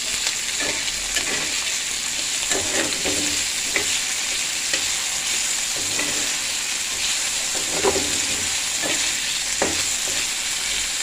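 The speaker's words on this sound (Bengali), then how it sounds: "এখন আমি আগে পেঁয়াজ দেব তেলের মধ্যে, কাঁচা লঙ্কা দিলাম, টমেটো দিয়ে দিলাম," Onion, green chilli and tomato fry in hot oil with a steady, even sizzle, while stirring scrapes and taps at an irregular rhythm close by, no voices.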